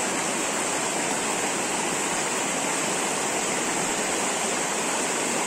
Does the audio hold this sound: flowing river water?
yes